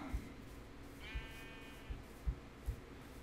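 A Minecraft sheep gives a single thin, wavering bleat over a quiet background with a few soft thumps.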